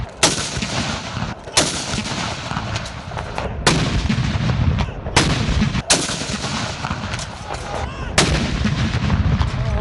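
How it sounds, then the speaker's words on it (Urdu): Ceremonial artillery salute fired in Pakistan, with six loud cannon booms at roughly one-to-two-second intervals, each blast followed by a long rolling echo and no voices. "دن کا آغاز توپوں کی سلامی سے ہوا۔"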